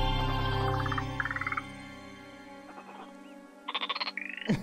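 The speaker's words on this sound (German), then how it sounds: "Das sind kleine Frösche, scheinbar." Small frogs croak in the VR video game Fujii, with rapid pulsed trills in short bursts over a sustained musical drone, growing busier toward the end.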